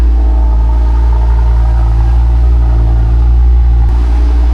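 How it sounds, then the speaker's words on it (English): Steady, deep exhaust drone from a nearby Audi RS3 8Y on factory mid pipes, a continuous loud rumble with little variation throughout. "I know you guys have been waiting for a while to hear this exhaust on the factory mid pipes"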